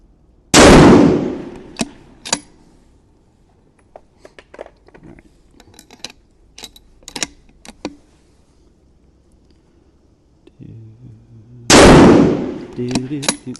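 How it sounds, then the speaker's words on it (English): Two loud, sharp gunshots ring out at a shooting range, several seconds apart, with scattered clinks and small handling noises between them. "So I'm just gonna go ahead and shoot."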